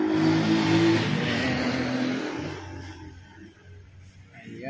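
A Vperman 150cc underbone motorcycle engine revs loudly up close, then settles and fades to a quieter idle with light background noise.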